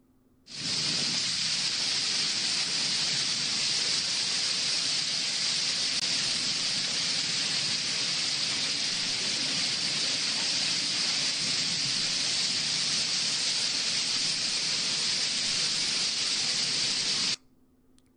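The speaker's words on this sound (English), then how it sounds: "This looks like this was actually captured during the hail storm." A hail storm makes a loud, steady roar and hiss of pelting ice that holds for about seventeen seconds and then cuts off abruptly. No voices are heard.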